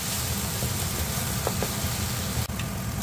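Chili seasoning stir-fries in a pot for Korean pollock stew (dongtae-jjigae), giving a steady close-up sizzle with occasional faint scrapes.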